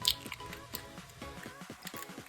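Bread batter of flour, raisins, kefir and eggs being stirred in a bowl, with soft, wet squelching strokes repeating in a loose rhythm, fairly quiet and close.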